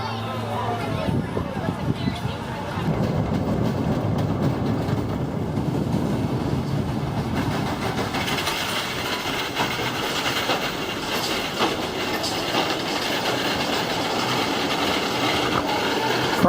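The Prowler wooden roller coaster runs at Worlds of Fun amusement park with a steady rumbling roar and rattling of the train on the track, continuous and fairly loud throughout, with crowd noise mixed in.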